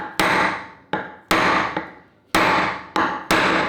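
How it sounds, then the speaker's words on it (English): A hammer strikes a seized brake caliper piston on an old Honda CB250 motorcycle, giving seven sharp metallic blows at uneven intervals, each ringing out and decaying before the next, loud and close with no talk. "I then tried to give the piston a shock with the hammer"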